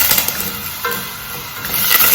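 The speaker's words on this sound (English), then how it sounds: "Let the onions cook until they brown up." Onions fry in a pot for githeri, a close, continuous sizzle with stirring scrapes and no talking.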